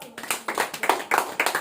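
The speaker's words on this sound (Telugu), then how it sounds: "చప్పట్లు కొడదాం." A church congregation claps hands together in rhythmic bursts, sharp repeated claps falling in a steady beat at close range.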